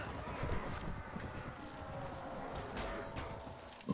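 Horses gallop in the Mount and Blade: Warband video game, a continuous rapid clip-clop of hooves that stays fairly faint and steady behind the general battle noise.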